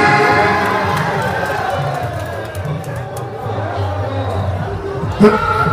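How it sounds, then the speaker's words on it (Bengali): A large outdoor crowd at a village fair cheers, whoops and shouts for film actress Munmun, a loud continuous roar of voices with children's cries mixed in and a sharp burst near the end. "তার জন্য সবাই সজোরে করতালি"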